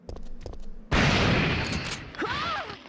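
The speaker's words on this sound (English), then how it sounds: "What was that explosion?" A sudden loud blast in Resident Evil 3 erupts after a few soft thumps, filling the scene with a long roaring rumble that slowly fades, with faint tonal whines near the end.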